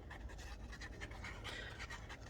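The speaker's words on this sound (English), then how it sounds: "sounds like the puppy's got into something again" A puppy panting quickly in rhythmic breaths, close and fairly soft, with light scratching and shuffling as it moves about indoors.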